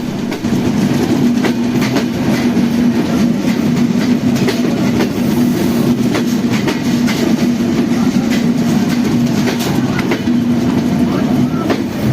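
Passenger train running on rails between Jashore and Kushtia, heard from inside the carriage as a loud, steady rumble with continuous rhythmic clickety-clack of wheels throughout.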